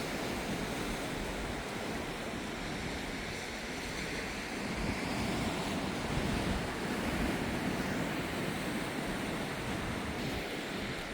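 Sea surf breaking steadily on a rocky shore beside a cliffside path near Shevchenko, with the wash and rumble of waves constant and close and a light wind gusting over the microphone.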